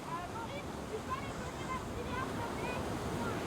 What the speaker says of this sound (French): On a du vent, on a de la houle.